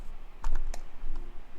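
A few quick keystrokes on a computer keyboard, soft clustered clicks at close range over a faint background hum, with no talk.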